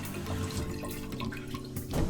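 A toilet tank slowly leaking and refilling on its own, giving a soft, steady trickle of running water with faint drips, continuous and close for a couple of seconds.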